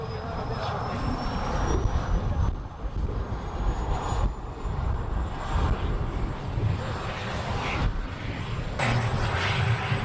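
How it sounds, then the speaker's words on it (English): Model F-100 Super Sabre jet engines running at a model air show, a steady roaring whine with thin high tones drifting across it. An announcer talks over the engines. "Both engines are now running. Super Sabre is backtracking down the runway, ready to take off."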